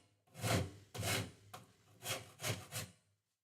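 A Shinto rasp files wood on a Telecaster-style guitar body in six close rough strokes, each a raspy scrape separated by short pauses.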